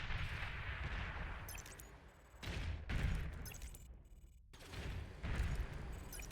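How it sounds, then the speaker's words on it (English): Pounder units firing in the strategy game Beyond All Reason: repeated heavy booming volleys in loud surges separated by brief lulls, dense and rumbling against background clatter. "Devastating fire from those pounders."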